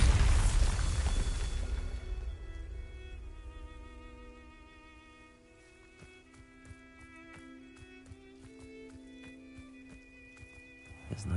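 The Bombarda blasting spell in Hogwarts Legacy goes off with one loud, deep boom that fades over about two seconds, followed by quiet music and light, scattered footsteps.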